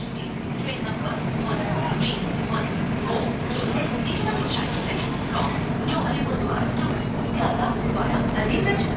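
A passenger train at Naihati station gives off a steady, dense rumble that fills the whole stretch at an even level, with people talking over it.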